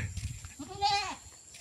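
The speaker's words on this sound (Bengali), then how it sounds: "এই ছাগলগুলো এখানে থাকেই অল টাইম।" Goats at a rural homestead give a single wavering bleat near the middle of the clip, fairly faint against quiet outdoor background noise.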